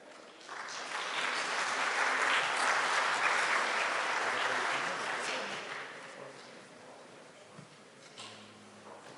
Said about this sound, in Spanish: Por favor, un aplauso para Nif Sardi.